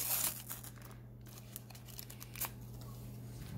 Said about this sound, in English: Let's open up our next sticker pack.